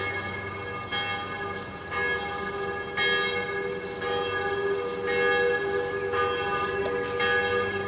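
Church bells toll in a steady rhythm, one strike roughly every second, each ringing out with rich sustained overtones over a constant background rumble, heard from a moderate distance with no talking.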